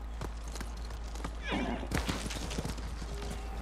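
A horse in the video game Ghost of Tsushima clip-clops in quick hoofbeats at close range, with a neigh-like snort mid-way, over a low steady game rumble while a voice talks faintly underneath.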